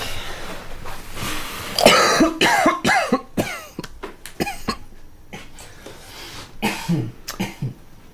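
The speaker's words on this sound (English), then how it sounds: "Did you just cough?" Several harsh coughs and throat clears come in uneven bursts, loud and close, with short pauses between them.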